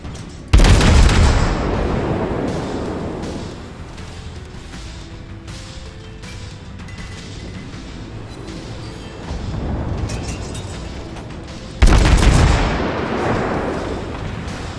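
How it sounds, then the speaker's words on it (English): Cruiser main guns fire in a World of Warships naval battle: two heavy, booming salvos about eleven seconds apart, each a sharp loud blast trailing into a long rumbling decay, no voices. "Firing as a cruiser"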